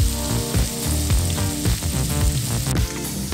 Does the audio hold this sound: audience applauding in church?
no